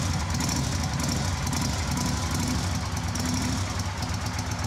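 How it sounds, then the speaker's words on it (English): A motorcycle engine running on a Tanner Two tester gives a loud, dense, continuous mechanical drone, close by and steady for the whole span with only slight wavering in intensity. "Give it a little rev."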